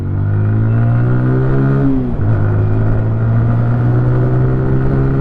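A 2024 TVS Apache RTR 180 2V motorcycle revs hard and close, its engine note climbing, dropping sharply at a gear change, then climbing again as it pulls through the gears.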